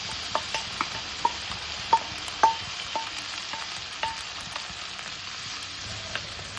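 Grated radish and red lentils are stirred in a hot pan with salt and turmeric, the spoon tapping and scraping against the metal in scattered light knocks over a soft, steady sizzle.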